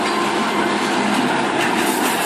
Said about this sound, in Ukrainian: А це маневровий тепловоз Чматри